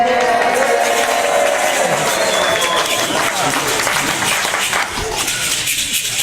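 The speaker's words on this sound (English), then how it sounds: "every time you hear Esther's name, you cheer" Audience at a Purim play cheering and clapping together, a loud sustained wave of applause and shouts that carries through the whole stretch, dipping slightly near the end.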